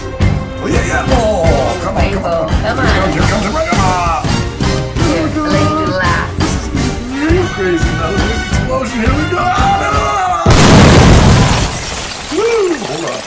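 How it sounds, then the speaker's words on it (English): A Mega Cash $10 Million Dazzler scratcher game plays bright electronic jingles and tones, then a sudden loud burst of explosion-like noise near the end. Loud and close throughout. "Another explosion."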